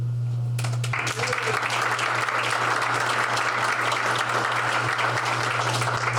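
A crowd at a Veterans Day breakfast breaks into sustained applause, steady and full, over a low electrical hum in the hall.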